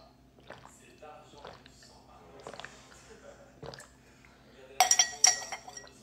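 A spoon clinks against a glass while a drink of water with gelatin-forming powder is stirred, several light taps under quiet talk, ending in a brighter cluster of rapid clinks.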